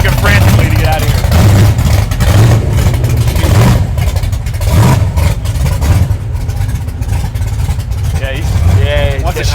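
A high-performance engine in a Tokyo Drift-style Monte Carlo drift car runs loud and close, a deep throbbing idle with repeated rev surges, while people talk over it.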